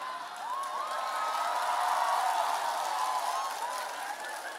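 Congregation in a cinema-hall church service responds during a sermon with a swelling crowd reaction, a dense wash of clapping and cheering with a few rising whoops, building and then easing over several seconds.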